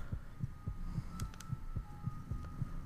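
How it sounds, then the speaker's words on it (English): Heartbeat in the game Anime Novel.exe, a steady run of soft low thumps in regular pairs over a faint hum, close and rhythmic with no talking. "It's your heartbeat, my dear. It's called heartbeats."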